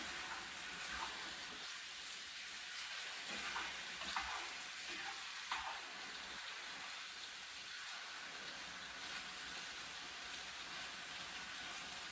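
Braised pork stir-frying in a pan, a dense, even hiss of sizzling fat that runs throughout, with a few faint clinks of the meat being turned underneath.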